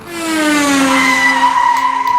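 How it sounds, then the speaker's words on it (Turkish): Toy truck and yellow toy tractor racing each other, a loud continuous whirring motor tone that slowly falls in pitch, with a skidding, squealing quality throughout and no talk. "Şimşek McQueen'li tır mı? Yoksa Yaman'ın seçtiği sarı traktör mü? Acaba yarışı kim kazanacak"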